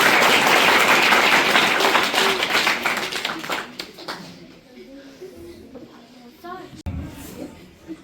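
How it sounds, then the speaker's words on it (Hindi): Schoolchildren at a combined farewell and felicitation ceremony applaud loudly, a dense burst of clapping that fades over a few seconds into scattered claps, with voices and a pigeon's cooing heard as it dies away. "हाथ खोलकर जोरदार ताली भवानी मैडम के लिए बजाएं।"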